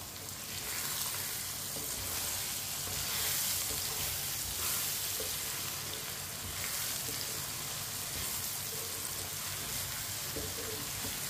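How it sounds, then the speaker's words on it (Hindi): Four eggs being mixed and frying in a pan with potatoes, a dense, constant sizzle filling the whole stretch, close and even with faint stirring, no talk. "चार अंडे डाल लेंगे। अंडों को मिक्स कर लेंगे।"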